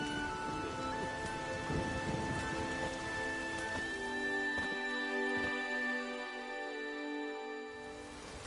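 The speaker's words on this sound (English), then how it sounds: "There's no point standing here in the rain." Steady rain falls in The Witcher 3 outdoors, a continuous soft hiss of drops with a few faint distant rumbles, layered under sustained tonal background music and fading slightly toward the end, with no voices.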